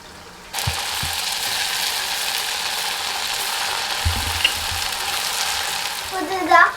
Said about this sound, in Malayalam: ഒരു പാൻ വെച്ചിട്ട് അതിൽ ഓയിൽ വെച്ചിട്ട് ചൂടാക്കാൻ വെച്ചിട്ട് അത് നമുക്ക് ഫ്രൈ ചെയ്തെടുക്കാം.